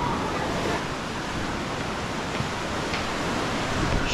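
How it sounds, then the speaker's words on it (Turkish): Strong ocean waves breaking on a small beach at Uluwatu, Bali, a dense, steady roar of surf that stays loud and close throughout with no talking. "Dalgalar şurada bile ne kadar kuvvetli."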